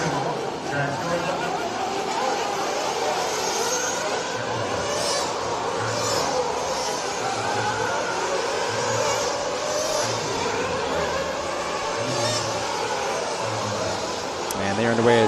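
Race cars rolling out onto the track for Thursday qualifying at the Silver State event, a steady broad roar of engines with crowd and announcer-like chatter mixed in throughout.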